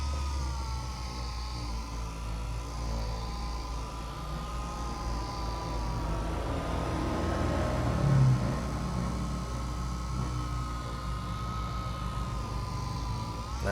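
A Xenon CDP 125 cordless polisher runs at higher RPM, holding a steady close motor whine that rises slightly in the middle.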